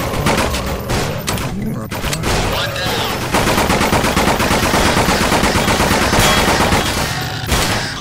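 Rapid automatic gunfire in the horror video game Nightmare House 2, a dense, loud, continuous burst of shots filling the whole stretch, with brief pauses near the start.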